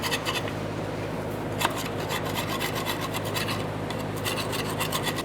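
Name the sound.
scraper cleaning gasket off exhaust flange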